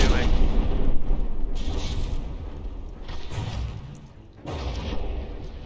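Naval battle between the battleships Zvinvoshar and New Hampshire in From the Depths, with a dense, continuous rumble of heavy gunfire and booming shell impacts, loud and close, with several sharper blasts standing out of the roar.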